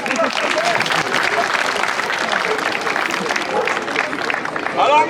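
Audience applauding at a medieval festival show in Locronan, steady dense clapping with crowd murmur throughout, swelling slightly near the end.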